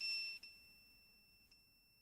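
A multimeter sounds a steady high-pitched continuity beep while probing a laptop wire. The tone holds for about two seconds with two brief dips, clear and alone in a quiet room.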